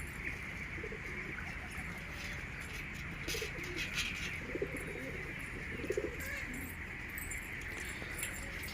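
Kept pigeons cooing softly in a loft, low repeated coos over a steady faint background hiss, with a few small scuffles and flutters.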